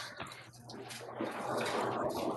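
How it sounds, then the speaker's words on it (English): A washing machine fills with water, rushing and splashing into the drum, swelling louder midway and continuing steadily, with a low mechanical hum beneath. "I heard it adding water"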